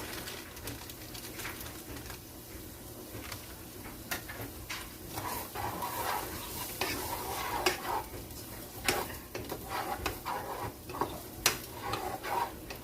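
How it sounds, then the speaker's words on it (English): Onions sizzle in a pan while brisket sandwiches are made, a steady low crackle broken by scattered stirring clicks and clatter of utensils against the pan, moderately close with no talking. "the first thing I'm going to do is put in these onions"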